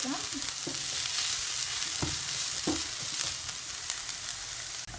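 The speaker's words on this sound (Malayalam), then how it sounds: "ഈ വെളുത്തുള്ളി ഇഞ്ചി ചതച്ചത് നന്നായിട്ടൊന്ന് മിക്സ് ചെയ്ത് കൊടുക്കാം." Crushed garlic and ginger stir-fried with onions in a pan, giving a steady close sizzle with several distinct scraping strokes of a spoon.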